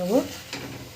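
Radish paratha fries in oil on a hot pan, a short, close sizzle with a brief scraping stir near the start.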